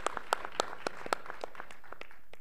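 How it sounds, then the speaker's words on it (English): A few people clap at a talk event, the claps distinct and loosely paced, fading quickly; a sparse smattering of applause rather than a full crowd. "that deserves a round of applause too"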